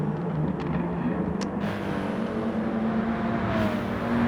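Gr4 race cars in a racing video game drone steadily with a sustained engine whine, a few faint higher passes flickering through the continuous motor roar.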